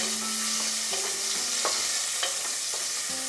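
Raisins fry in oil over a low flame, a soft steady sizzle with light stirring clicks and a few faint tonal hums, close and quiet with no voices.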